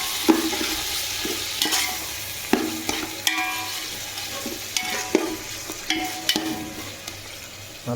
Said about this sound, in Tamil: எல்லாத்தையும் ஒன்றா போட்டு கிண்டோம்னா